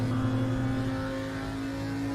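Steady drone of an Audi five-cylinder race car engine in the RaceRoom racing game, a held, even engine note with strong low harmonics, continuous and fairly loud throughout.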